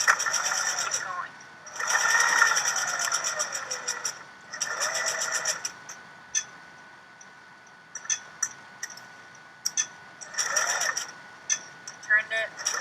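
A sewing machine stitches a fabric face mask over the bridge of the nose area in short, close whirring runs separated by pauses as the fabric is shifted and turned, with a woman giving instructions over it.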